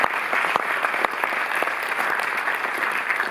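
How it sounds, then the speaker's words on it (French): An audience at a cinema presentation in Paris applauds, giving steady, dense clapping at moderate volume with a few sharper individual claps standing out near the start. "Oui, vous pouvez applaudir Costa, peut-être qu'il était là."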